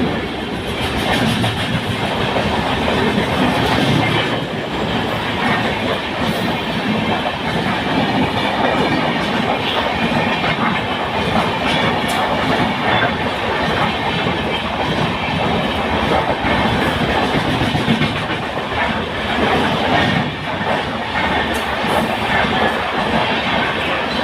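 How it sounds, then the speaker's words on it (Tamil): The Kollam–Tirupati bi-weekly superfast express train rumbles past close by for the whole stretch, steady heavy rolling noise with rhythmic clickety-clack of wheels over rail joints. "train number 17422 Kollam Tirupati by weekly super fast express"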